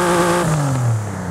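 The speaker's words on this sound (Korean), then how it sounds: "제가 엔진 소리 한번 들어볼게요." A Jeep Wrangler Rubicon engine revs up and settles, a steady loud mechanical drone with a rising then falling pitch, close by with no talking.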